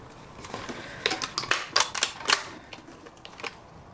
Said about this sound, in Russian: Ну, я слышу, что скребутся.